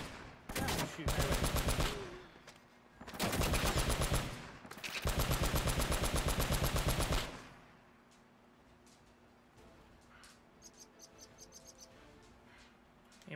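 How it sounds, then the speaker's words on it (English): Automatic gunfire from a gun in the video game Uncharted: Drake's Fortune, fired in three long, rapid bursts close up, then quiet ambience with faint scattered clicks. "I'll use the gun, that's fine"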